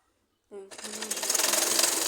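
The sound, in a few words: sewing machine stitching a baby frock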